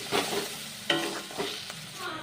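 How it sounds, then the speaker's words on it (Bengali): Spices (coriander, cumin, turmeric, chili powder and salt) fry and get stirred in a pan for an egg dish, with a steady sizzle broken by a few sharp spatula scrapes against the metal. "সব মশলাগুলো ভালো করে কষিয়ে নিতে হবে"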